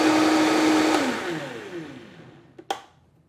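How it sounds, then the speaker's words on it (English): A blender whirs loudly blending tomatoes, then winds down with a falling pitch as it stops, followed by a couple of sharp clicks. "let's add our tomatoes to the blender."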